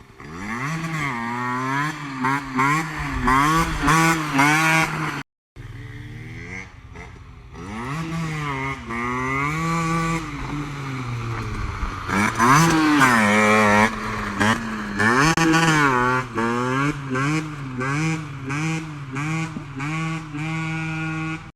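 A two-stroke moped with an EBS engine and Gianelli 2T exhaust revs repeatedly in sharp, buzzy bursts, rising and falling pitch, loud and close, with one brief cut in the middle.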